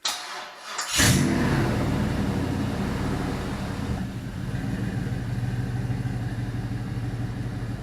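A GM LM7 5.3L V8 cranks briefly, catches with a loud burst around the first second, then settles into a steady rumbling idle close by.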